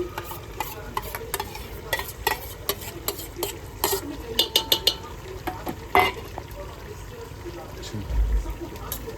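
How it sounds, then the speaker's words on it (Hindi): Thick yogurt stirred and scraped into a cooking pot, with wet squelching and spoon knocks against the metal in an uneven rhythm, close and fairly loud, with a faint sizzle underneath. "यहाँ पे मैंने निकाला है 1 कप दही, जिसको इसमें डाल देंगे।"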